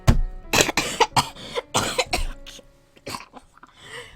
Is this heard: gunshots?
no